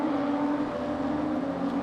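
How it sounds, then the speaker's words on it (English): BMW 235i race cars in RaceRoom at Mantorp Park, a steady, loud droning engine note from several cars running close together, sustained throughout without talk. "those cars are loud when they're all near each other"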